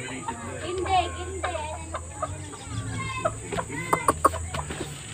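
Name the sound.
Shamo chickens clucking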